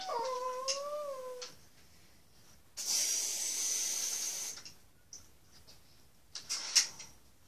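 A fire engine sprays water onto a fire. A faint whistling tone comes first, then a sustained hiss of spray for about two seconds, followed by shorter hissy bursts, all quiet overall.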